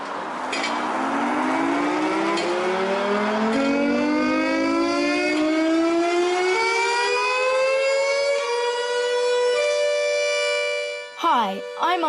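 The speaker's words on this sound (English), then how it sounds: "These are the last ever pictures of the Bagshot depot siren, which happened to be my favourite due to its unusually slow startup." The Bagshot depot civil defence siren of the Broadmoor siren system winds up unusually slowly, a loud wail climbing steadily in pitch over many seconds, followed at the end by a brief rising and falling whoop.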